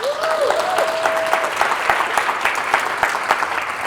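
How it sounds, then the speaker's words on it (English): A conference crowd at a health summit breaks into dense, sustained clapping that fills the hall, with a brief rising whistle near the start. "Give that man a big round of applause."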